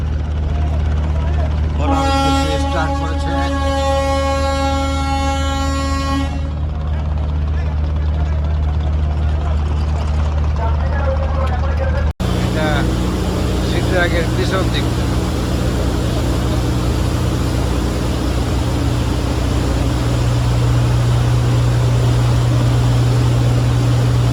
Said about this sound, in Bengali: পাশে যে লঞ্চটা দেখা যাচ্ছে এটাও ঢাকা ফোলা রুটের লঞ্চ